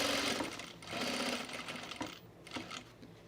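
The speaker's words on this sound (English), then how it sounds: "I'm gonna stitch around this box" A sewing machine stitches around a box on a men's utility jacket, a fast buzzing whir in several runs, with short pauses between bursts and a quiet close sound.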